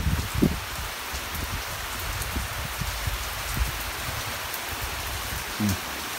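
Heavy rain pours down steadily all around, a dense constant hiss with a few louder nearby drips and knocks, no one speaking.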